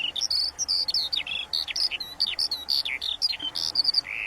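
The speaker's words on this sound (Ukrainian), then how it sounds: "Послухайте пісеньку жайворонка" A skylark sings a rapid, continuous stream of bright chirps and trills, close and clear over a quiet background.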